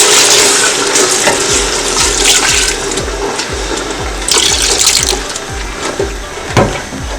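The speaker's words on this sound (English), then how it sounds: "Now we'll be adding like 500 ml of water" Water, about 500 ml, is poured into a pot for a seafood boil, making a loud, steady rushing and sizzling wash with low rhythmic pulses underneath that lasts the whole stretch.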